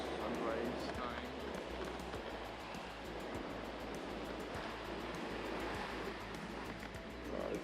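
Surf washing steadily onto Sitapur Beach on Neil Island in the Andaman Islands at sunrise, a continuous soft rush of waves at moderate distance with no voices.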